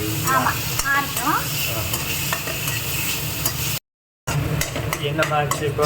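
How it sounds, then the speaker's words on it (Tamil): Tomatoes sautéing in a pan for a Udupi rasam lunch, with a steady close sizzle and repeated stirring scrapes; brief voices break in, with a short drop to silence midway. "தக்காளி கொஞ்சம் வதங்கட்டும்"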